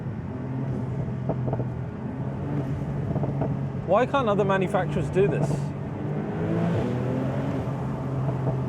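A 2020 Porsche 911 Turbo S Cabriolet exhaust rumbles and rises in a brief rev in Sport mode, a steady low drone swelling for a moment, heard under a person talking close by.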